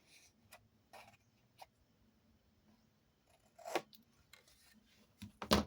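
Scissors snip paper while a mini album is being made: a scatter of short, soft cuts and rustles, close and fairly quiet, with a louder snip near the end.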